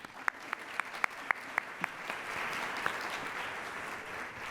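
A small audience claps for a panelist at a charitable giving discussion: a few sharp, separate claps at first, then steady, moderate applause that holds to the end, heard from a short distance.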